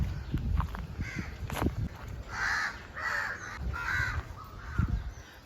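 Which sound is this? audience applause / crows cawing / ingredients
crows cawing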